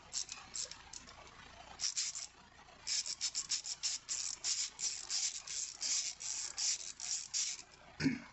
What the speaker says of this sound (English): That ratcheting sound might be loud on camera.